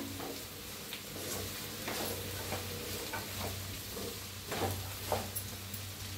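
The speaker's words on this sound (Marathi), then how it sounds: "तर टाकूया मटकी बटाटो आपण भाजून घेतलेला। आणि छान असं मिक्स करूया।" Roasted moth beans and potatoes being stirred into a vegetable curry in a pan: a low, even sizzle with soft scraping strokes and a sharper clack at the end, close by and with no speech.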